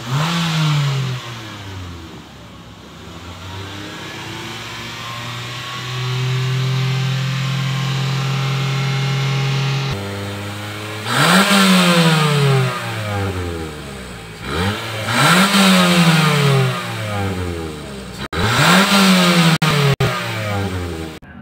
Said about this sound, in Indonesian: Oke, kita tahan di RPM agak tinggi dalam beberapa detik. Mainkan gasnya agak disentak.